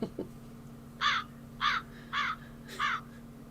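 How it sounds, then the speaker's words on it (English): Four harsh crow caws ring out at a steady, evenly spaced rhythm, fairly near and clear over a quiet background hum, with a brief faint thump just before them. "Damn crows."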